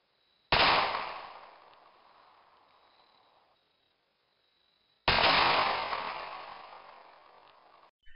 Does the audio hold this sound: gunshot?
yes